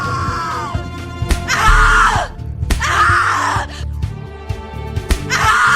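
A victim screams in a horror video game, with loud, drawn-out shrieks in three bursts separated by short gaps and thuds, while a low voice and dark ambience rumble underneath.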